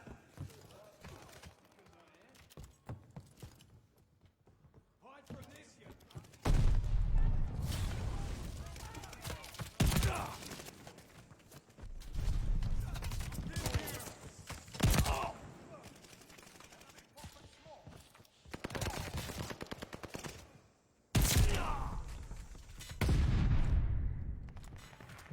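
Rapid automatic gunfire in Call of Duty: Vanguard, loud bursts of shots coming in repeated waves with pauses between, while someone talks over the game sounds.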